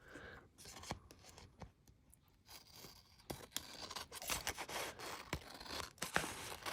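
Woven washi paper being trimmed, giving a run of soft snips and papery crinkles with scattered sharper cuts, close and fairly quiet, with no talking.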